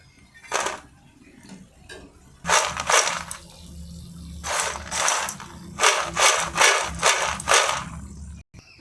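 Crispy fried kabuli chickpea pakora crunching close up in a series of sharp, crackling bursts, sparse at first and then coming in a quick rhythmic run of loud bites near the end.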